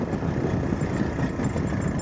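A motorbike engine runs steadily while riding over a rough road, a close, low rumbling drone with small uneven pulses and no talk over it.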